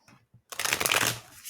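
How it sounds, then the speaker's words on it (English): A brief soft rustle, then a loud, dense burst of tarot cards being riffled together, close up, trailing off after about a second. "So let's do a few shuffles."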